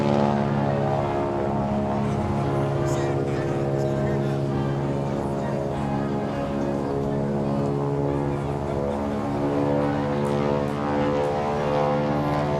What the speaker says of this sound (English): And there's our flyover again.